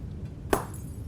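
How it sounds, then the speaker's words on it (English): A single sharp glass burst, like a light bulb popping and shattering, strikes once mid-clip in a horror video game, standing out loud and bright against a low, steady ambient drone. "the bulbs throughout the house began to burst one by one."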